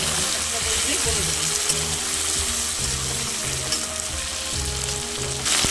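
Tomatoes sizzle and fry steadily in a pan with egg and capsicum, a close, continuous crackle with occasional stirring, and a voice seems to talk over parts of it.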